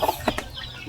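Backyard chickens give a few quick clucks close by, short bursts over a faint outdoor background.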